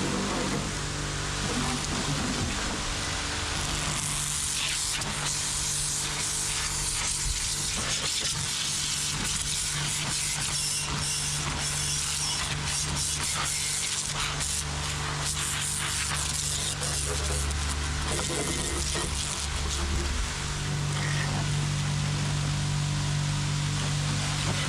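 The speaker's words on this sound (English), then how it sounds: "Water spraying off the surfaces now." Pressure washer spray hitting an abandoned tow truck outdoors, a steady loud broadband hiss of water jet and splatter running the whole time with slight shifts as the spray moves across surfaces.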